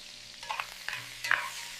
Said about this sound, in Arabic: نشوحه في زبده وتوم دقيقتين بس